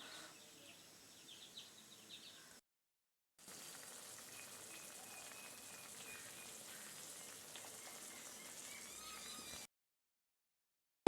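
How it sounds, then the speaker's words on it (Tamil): Chili chutney boiling in a pot on the stove, a steady hissing bubble and sputter with fine crackles, close and continuous, cut by two short silent gaps. "இது நல்லா ஒரு 5 நிமிஷம் வந்து நல்லா கொதிக்கட்டும்."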